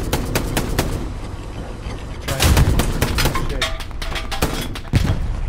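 Gunfire in the World War II shooter Hell Let Loose during a tank battle: rapid bursts of shots, loud and close, crackling in quick volleys with heavier thumps mixed in, without pause across the whole stretch.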